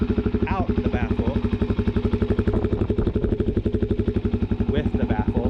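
A 2018 Suzuki DR-Z400S idles with its exhaust baffle removed, giving a loud, close, evenly pulsing single-cylinder thump throughout, while someone talks briefly over it.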